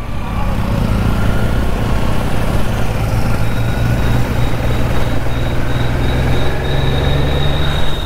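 A Kawasaki Z900 motorcycle runs with its exhaust removed, making a loud, steady, close-up engine drone that holds constant throughout.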